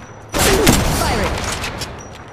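A sudden loud burst of rapid gunfire erupts in Apex Legends Mobile, then rattles on and fades over a couple of seconds.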